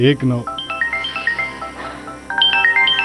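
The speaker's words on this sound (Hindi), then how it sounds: "फिर मकान मालिक का फोन आ रहा है।" A melodic phone ringtone plays a bright tune of repeated electronic notes, loud and close, briefly interrupted before the pattern starts again.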